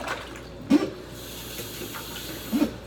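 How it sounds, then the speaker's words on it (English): Tap water runs steadily at a sink during handwashing, a soft, even hiss with two brief louder splashes, and nobody speaks. "Wash my hands."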